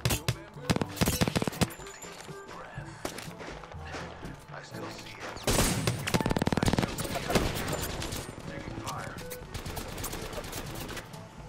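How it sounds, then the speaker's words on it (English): Bursts of gunfire from a battle royale shooter, Apex Legends, rattle loudly in clusters early and again midway, layered over game effects and steady background noise, with people talking over the action. "Are they shooting me from the behind?"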